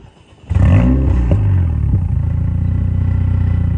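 A Renault Megane 4 RS Trophy engine in normal mode catches with a sharp burst after a half-second of quiet, gives a couple of quick revving blips, then settles into a steady, close throaty idle.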